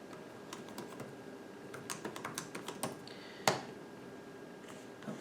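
Keys tapped on a Framework 13 laptop keyboard, a quiet run of light, quick clicks in an uneven rhythm, ending with one sharper, louder press.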